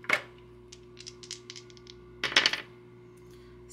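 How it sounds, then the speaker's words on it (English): Dice are rolled during a cash-stuffing savings game, with a sharp clatter at the start and a second rattling burst a couple of seconds later. Faint clicks fall in between, and the room is otherwise quiet. "go ahead and play the dice"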